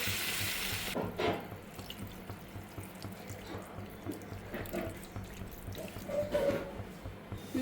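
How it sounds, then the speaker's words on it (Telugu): Water pours from a glass over soaked raw green chickpeas in a kitchen, giving soft splashes and trickles in bursts over several seconds, close and fairly quiet. "ఇప్పుడు గ్లాస్ చూసారా నీళ్ళు పోస్తాను"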